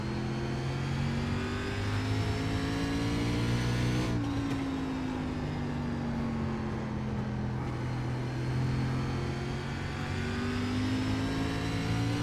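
An SRX race car in iRacing at 5 Flags Speedway accelerates hard, its engine note climbing, dropping sharply at a gear change, then rising again, loud and close with no talk.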